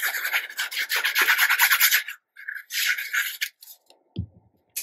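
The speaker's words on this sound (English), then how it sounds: "we're going to trim down these two white red strips to fit" Scissors trimming white and red paper strips for a craft scrapbook page, a few close rasping cuts in bursts separated by short pauses, with a faint tap near the end.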